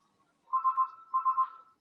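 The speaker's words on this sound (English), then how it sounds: "Whose phone is ringing?" A mobile phone rings during a panel discussion, two short bursts of a bright electronic trill separated by a brief pause, clear and alone in a quiet room.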